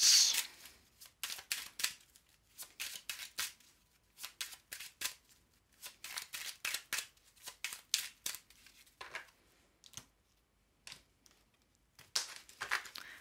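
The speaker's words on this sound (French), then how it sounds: "Je pose toutes les cartes comme ça après" Oracle cards laid out one after another on a table, as a run of close, quiet papery slaps and swishes with short pauses between them.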